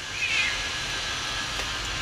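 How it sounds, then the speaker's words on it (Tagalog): A single short cat meow in a basement parking garage, brief and fairly close, over a steady hollow background hum. "yung pusa dito sa basement parking"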